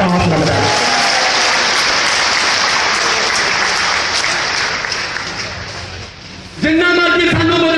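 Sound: crowd applauding at political rally

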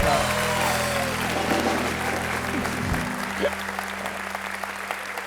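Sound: studio audience applause

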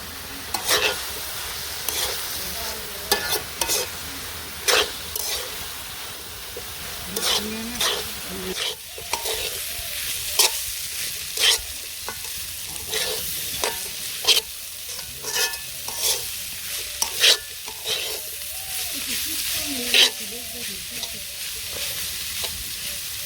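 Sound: stir-frying cabbage with turmeric and chili powder in a pan

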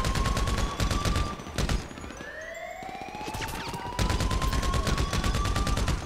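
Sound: gunfire in a video game

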